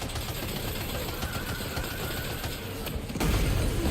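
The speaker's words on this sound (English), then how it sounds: "I'll try heavy machine gun first." Heavy machine gun fire in a video game, a dense continuous rattle of shots holding steady at full loudness, swelling heavier with a booming surge near the end.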